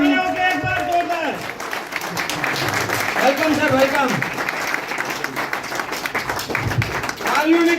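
An audience welcoming Vishnu Prasad Dhakal breaks into steady, dense applause that runs throughout, with people speaking and calling out over the clapping.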